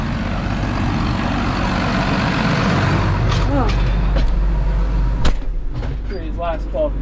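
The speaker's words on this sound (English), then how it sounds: "Back to the tractor." A tractor engine on a farm during hay chopping rumbles steadily and loudly at close range, with a few clanks and brief mechanical squeaks above it.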